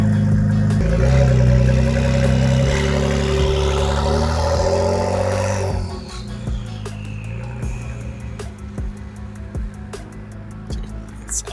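An Acura NSX Type-S hybrid supercar engine revs loudly and close by for several seconds, with a rising whine, then drops to a quieter idle broken by sharp clicks.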